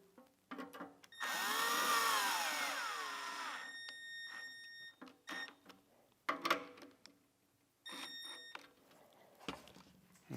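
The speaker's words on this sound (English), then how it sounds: "We'll put these 2 screws in." Power driver putting two screws into the grit guard of a MAG-8200 lawn mower blade sharpener, a whirring run of a couple of seconds followed by shorter bursts and clicks, close and fairly quiet.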